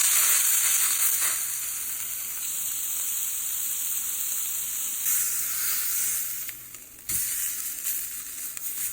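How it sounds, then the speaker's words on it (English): Lamb browning in a hot pan for a roast dinner gives a steady, loud sizzle and hiss that carries on throughout, dipping briefly near the end before picking back up. "So let's brown the lamb."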